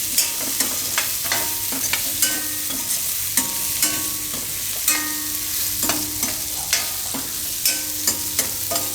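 Water chestnuts being stirred through sizzling frying masala in a pan, with steady frying hiss under regular scraping strokes of a spoon, close and continuous.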